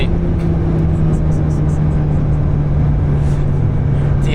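A street-legal Alpine A110 heard from inside on the move, a loud steady engine drone with a constant hum and rushing road noise.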